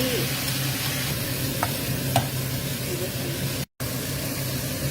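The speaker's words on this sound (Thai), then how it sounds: "ตับสุกแล้ว ผัดค่ะ ใช้ไฟแรง" Liver stir-fried with sauce in a pan over high heat, a steady loud sizzle with occasional scraping stirs, close and continuous with a brief dropout near the end.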